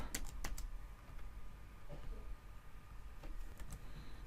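Soft, quick clicks of fingers typing on a computer keyboard, a few short bursts of keystrokes with brief pauses between them, close and fairly quiet against low room hiss.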